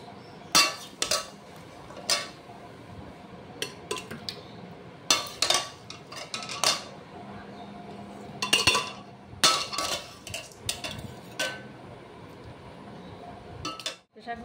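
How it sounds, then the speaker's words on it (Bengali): Metal utensils and pot clink and clatter in irregular bursts as mutton is transferred into a pressure cooker in a home kitchen, with quieter gaps between the knocks. "এবার প্রেশার কুকারের মধ্যে দিয়ে দেবো"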